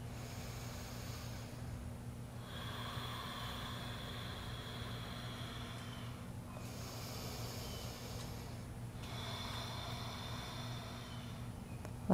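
Slow rounds of yoga breathing during a trapeze flow session, soft breathy inhales and exhales repeating every few seconds over a faint steady hum.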